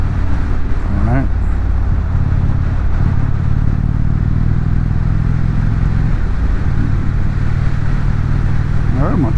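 Motorcycle engine droning at steady speed while riding with the throttle rolled off, wind and road roar heavy throughout, with a voice talking over it.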